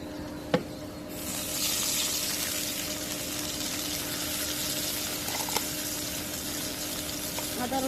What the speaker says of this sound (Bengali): এখন একটু পানি দিব।